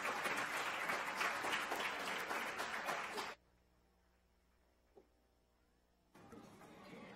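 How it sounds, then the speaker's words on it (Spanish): A Christmas concert audience gives the children loud, sustained applause that cuts off abruptly into near silence, then starts again toward the end. "Fuerte el aplauso nuevamente para nuestros niños."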